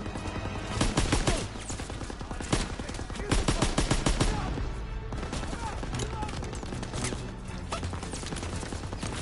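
Machine-gun bursts and rapid rifle fire rattle loudly through a Call of Duty: WWII battle, with dense, repeated volleys heard up close as voices shout over the shooting.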